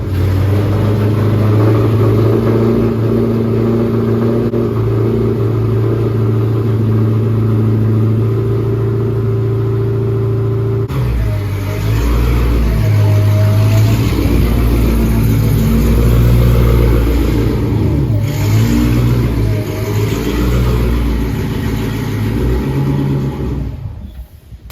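A 1000 hp Dodge Challenger Hellcat engine idles with a loud, deep, steady rumble, then revs in several rising and falling pulls, close and dominant with no talk.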